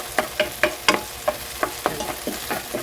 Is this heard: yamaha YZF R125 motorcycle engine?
no